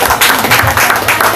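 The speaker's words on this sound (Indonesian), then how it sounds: "Ya tepuk tangan buat Dewa itu." An audience bursts into loud, sustained applause at a talk show gathering, dense clapping filling the whole moment with no pause.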